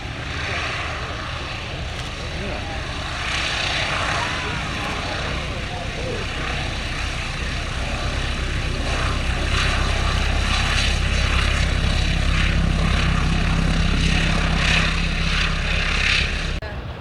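Propeller aircraft flying at the Shuttleworth Festival of Flight display, a steady droning engine roar that swells and holds over several seconds, with people talking over it.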